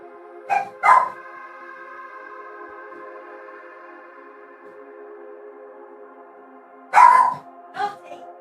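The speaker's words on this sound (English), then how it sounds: "Alright, doggo's barking." A dog barks twice in quick pairs near the start, goes quiet over a steady background hum, then barks again twice toward the end, fairly close and loud.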